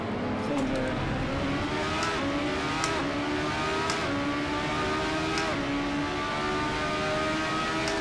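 Lotus Exos 125 engine in a sim racing game at Spa, revving steadily with rising and falling pitch through repeated gear changes, loud and continuous for the whole stretch with no talk over it.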